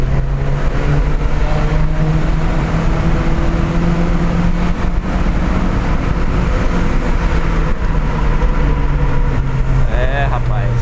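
A car engine with a stock, original exhaust drones steadily while driving through a tunnel, loud and continuous with a deep hum, and someone talks over it.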